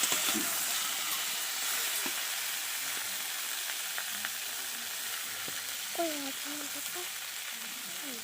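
Ginger paste sizzling in a hot pan, a dense continuous frying hiss close up with soft intermittent stirring scrapes and a faint tonal squeak near the end.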